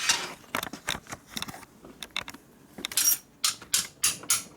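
A torque wrench ratchets on a big-bore motorcycle engine cylinder: a series of close, quick mechanical clicks and creaks in irregular bursts, fairly quiet, with no talk.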